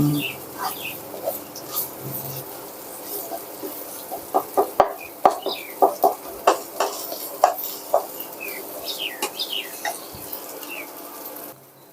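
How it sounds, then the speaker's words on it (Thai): A metal spatula scrapes and knocks in a pan while Thai curry paste is stir-fried in oil for a southern Thai squid and long-bean dish. A run of quick rhythmic clacks sits mid-clip over a busy background of faint clucking fowl. "ผัดไปเรื่อยๆ ครับผม"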